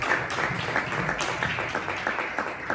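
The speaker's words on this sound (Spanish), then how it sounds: "Regálenle palmas al Rey de Reyes y al Señor de los Señores." Church congregation clapping together for the Lord, a dense, steady patter of many hands with rhythmic accents, fairly loud and close, lasting throughout with no talking over it.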